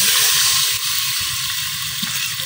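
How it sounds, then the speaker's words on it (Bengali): Water poured into a pan of frying onions with crushed ginger and garlic in a village kitchen, a loud close sizzle and hiss that settles into steady bubbling frying with no voices. "আমি একটু পানি দিলাম।"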